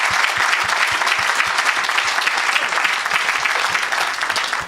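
Church congregation applauding for Jesus during a worship service, loud sustained clapping from a crowd with occasional cheering throughout.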